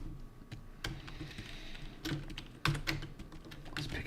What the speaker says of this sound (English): we're going to stick with the keyboard. Clickety clacks for all.